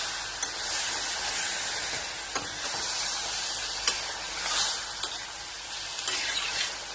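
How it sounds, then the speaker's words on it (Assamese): Spice masala fries with fish for a curry, a steady close sizzle and hiss running throughout with scattered sharp pops and crackles, and no voices. "মছলাখিনিৰ লগত অকণমান ভাজি লওঁ"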